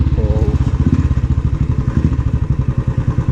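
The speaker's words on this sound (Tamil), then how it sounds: "so S, enjoy the exhaust note" Royal Enfield Thunderbird 350x with an upgraded exhaust idling up close, a loud, steady, deep thumping beat with even pulses throughout, no talk.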